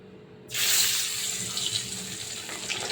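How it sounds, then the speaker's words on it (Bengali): Salted, turmeric-coated pabda fish drops into hot oil in a home kitchen, setting off a sudden loud, broad hissing sizzle that carries on steadily, with no talk. "এবার আমি মাছগুলো তেলে দিয়ে দেবো।"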